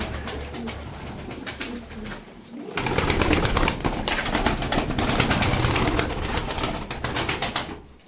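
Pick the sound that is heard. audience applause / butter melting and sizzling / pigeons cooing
pigeons cooing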